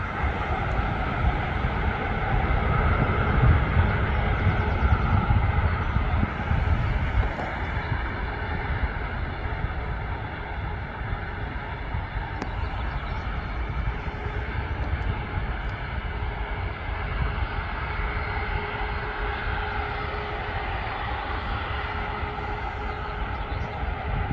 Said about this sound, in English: Another Ryanair 737.